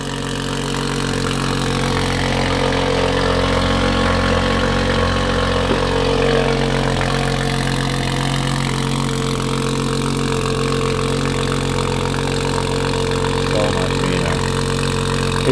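A Toyota Supra engine fitted with a new downpipe idles loud and close, a steady deep rumble that holds for the whole stretch with no talking.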